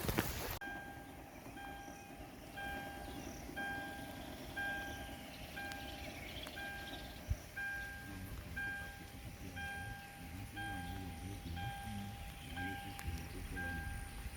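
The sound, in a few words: rain falling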